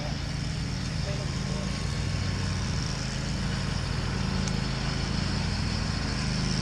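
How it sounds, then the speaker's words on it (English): A lawn mower runs nearby, producing a constant, fairly loud engine drone with a low rumbling hum that holds steady without pauses from start to finish. "It's just a mower."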